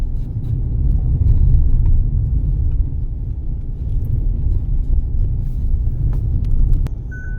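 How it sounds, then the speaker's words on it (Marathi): An auto rickshaw rumbles along a road with a steady low engine drone throughout, close and moderately loud, with faint clicks and rattles over it and no talking. "आणि व्यवस्थित आपल्या पद्धतीत रिक्षा चालवताले."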